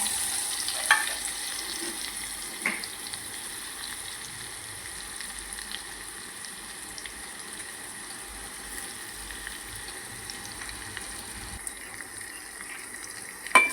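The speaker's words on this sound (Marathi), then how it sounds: "हा मी एक मीडियम साईजचा कांदा घेतले हा मी फोडणीला टाकून देते" A medium onion sizzles in hot spiced oil tempered with chili powder, a steady close frying hiss with occasional stirring scrapes and no talk.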